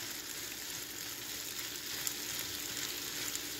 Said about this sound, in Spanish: que se frían ahí tantito, juntos chile y cebolla